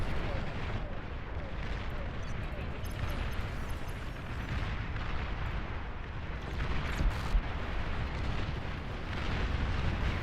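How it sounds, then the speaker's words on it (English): Long-range plasma cannons fire in the real-time strategy game Beyond All Reason, a dense, continuous roar of booming shots and explosions layered over one another without pause. "Those cowards have long-range plasma cannon."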